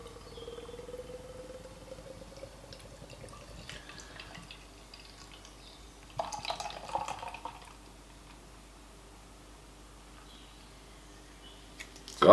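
Shake IPA beer poured from a can into a glass, a quiet liquid trickle and fizz with a louder splashing burst midway, close and fairly soft, no talking.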